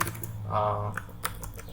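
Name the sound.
typing on a computer keyboard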